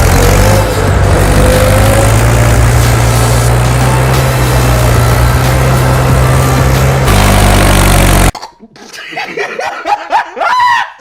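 A tractor engine drones loud and steady at close range for about eight seconds, then cuts out abruptly, leaving laughter and chatter from a group of people nearby.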